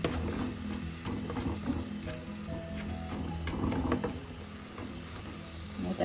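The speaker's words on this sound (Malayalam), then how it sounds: "ഇത്രയും ഈ ഓയിലൊന്ന് മൂപ്പിക്കാം" Turmeric, garam masala and pepper powder frying in oil for a Kerala chicken biryani, a steady soft sizzle running throughout with scattered scraping and clinking of a spatula against the pan, no talking.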